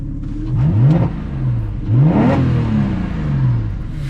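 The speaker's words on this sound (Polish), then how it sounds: "A to może być od wydechu, który brzmi od środka kabiny następująco." A Porsche 911 (997) Carrera S exhaust revs repeatedly, rising and falling in pitch with a deep throaty rumble, heard muffled from inside the cabin.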